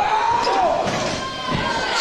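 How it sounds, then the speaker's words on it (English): A wrestler is slammed into the ringside barricade at an independent wrestling noose match, a heavy thud amid crowd noise and a commentator talking throughout. "Slams Carnage into the barricade."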